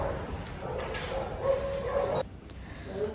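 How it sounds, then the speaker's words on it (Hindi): A dog at home in Nashik gives a few yappy barks and whimpering yips nearby, mixed with people talking in the room. "अगर हमने इसको हाय हेलो नहीं किया तो ये भौंकेगा"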